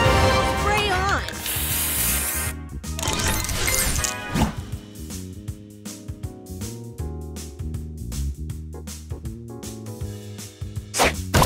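A spray booster effect fires in the Match Masters mobile puzzle game amid busy game sounds: hissing spray bursts, smashes, clinks and thwacks over a lively musical background.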